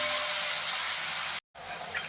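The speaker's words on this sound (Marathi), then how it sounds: "आता हा मसाला तेल सुटेपर्यंत चांगला असा परतून घ्यायचा आहे." Ground masala sizzles as it is sautéed in oil, a loud steady hiss close up, broken by a brief gap before resuming slightly softer.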